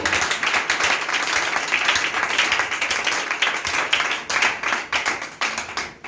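A church congregation claps and applauds for the Lord during a sermon, with dense rapid clapping that swells and thins in bursts, fairly close and loud.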